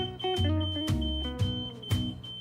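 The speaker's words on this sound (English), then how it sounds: "How did you set off the smoke alarm already?" A smoke alarm beeps in a kitchen where water is boiling on the stove, a repeating electronic tone over a busy mix of music-like chords and clatter.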